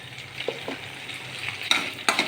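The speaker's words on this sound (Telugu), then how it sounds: "ఆవాలు జీలకర్ర వేసి బాగా వేయించాలండి." Mustard seeds and cumin frying in hot oil, a close, steady sizzle broken by sharp crackling pops and a few stirring scrapes, with no voices.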